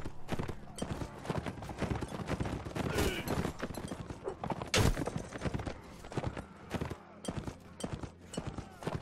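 Galloping horse hooves in the Warsword Conquest mod for Warband pound in a quick clip-clop rhythm close by, mixed with battle clatter, a brief whinny and a voice talking over them.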